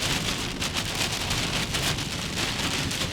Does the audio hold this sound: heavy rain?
yes